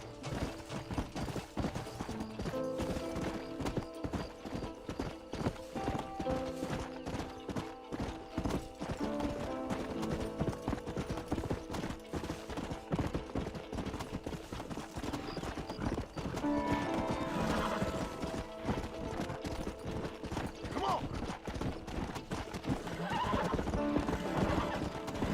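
Horse hooves clip-clop steadily in Red Dead Redemption gameplay on Xbox Series S, with whinnying and neighs rising over a busy bed of game music and ambience for a long stretch.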